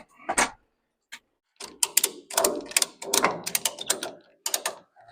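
Ratchet wrench tightening bolts on a square-body Chevy truck: bursts of rapid clicking, close and crisp, broken by short pauses between strokes, with no talk.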